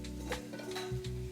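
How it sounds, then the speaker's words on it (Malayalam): Onions, green chillies and curry leaves being sautéed in a pan, a soft sizzle under a few scraping stirs of a spoon against metal, close and quiet, with no voices. "ഉള്ളിയും പച്ചമുളകും കറിവേപ്പില ഇട്ടു. നല്ലോണം വഴറ്റാം."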